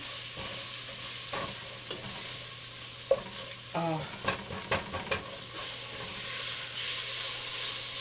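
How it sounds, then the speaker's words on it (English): A rotel dip mixture is stirred in a pan with a soft continuous sizzle, broken by a few sharp scraping strokes from the utensil near the middle of the clip. "Just kind of stir that around"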